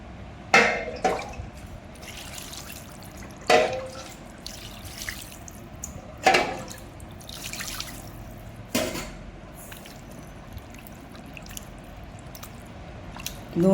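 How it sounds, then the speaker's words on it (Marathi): Raw chicken washed with water in a kitchen, several separate splashing pours and squishy sloshes at a slow irregular rhythm, with quiet gaps between them. "हे चिकन आता याला मी मस्त धुवून घेते"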